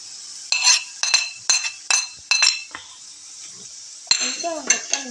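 Crushed pepper, shallots and garlic fry in a pan, with repeated clinks of a metal spoon against the pan over a soft sizzle, several sharp stirring knocks spaced a moment apart.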